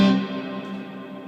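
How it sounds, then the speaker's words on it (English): A single electric guitar chord played through a reverb pedal with the shimmer turned off, struck loudly and left to decay into a long, spacious hall-like tail. "then this is a reverb pedal"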